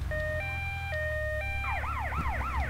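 An ambulance siren in the video game GTA Vice City, loud and close, first holding steady two-tone notes and then switching to a fast rising-and-falling wail, with a low engine rumble underneath.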